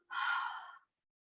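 A single soft, breathy exhale during a hatha yoga breathing exercise, close and clear, lasting under a second and followed by silence.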